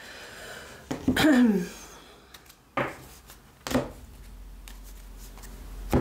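Tarot cards shuffled and pulled from a deck, with a few short riffling bursts and soft slaps of cards, close by and interrupted by brief quiet gaps and faint breathing.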